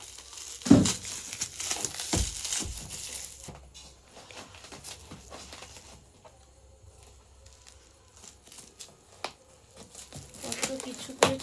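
Wrapping from a parcel sent from Mayapur crinkles and rustles in bursts as it is opened indoors, with quieter gaps and faint background sounds.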